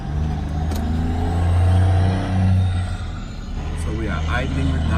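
VW Touareg engine idling steadily after being started, a low continuous rumble close by, with a person talking over it.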